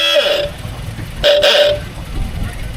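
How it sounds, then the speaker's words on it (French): A vintage car's horn honks loudly at a classic car gathering on the N7, two bright blasts close by with engine and crowd noise beneath. "Le klaxon, il est inépuisable."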